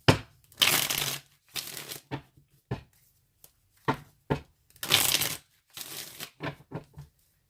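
Tarot cards being shuffled by hand in a series of crisp, papery riffling bursts, some long and some short, with brief silent pauses between them, close and clear with no talk.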